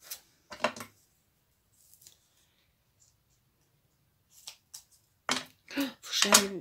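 Scissors snip through a card in a few short, sharp cuts, first a single isolated snip, then a quick cluster of crisp snips near the end, close up with a quiet background.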